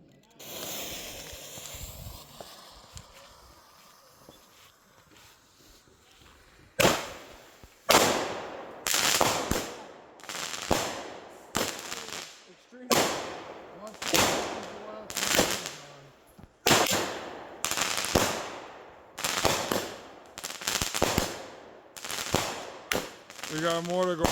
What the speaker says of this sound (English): This is machine gun shell.